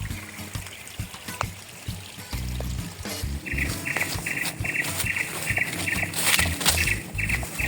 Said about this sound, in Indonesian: ada persis di aliran mata air kecil